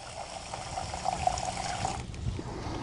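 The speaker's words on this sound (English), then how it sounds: "I'm going to add 8 ounces of water." Eight ounces of water pour into a mixing container for a 50-50 teak brightener mix, a soft close trickle that runs steadily for about two seconds and then stops, with no talking.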